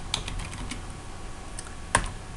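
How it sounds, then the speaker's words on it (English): Scattered keystrokes tap lightly on a computer keyboard, a few soft clicks and one sharper press over a faint background hum. "I can just click on the shape and start typing"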